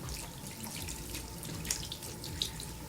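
Tap water running steadily into a sink while makeup brushes are rinsed one at a time, a continuous soft splashing stream with a couple of brief drip-like accents, close and quiet, without talk.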